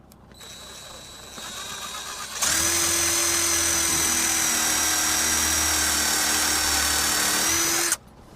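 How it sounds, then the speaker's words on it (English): A power drill pre-drilling holes in wood whirs at low speed, then revs up to a loud, steady whine for several seconds before stopping abruptly. "Now I'm going to pre-drill my holes to keep it from splitting."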